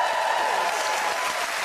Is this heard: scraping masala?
no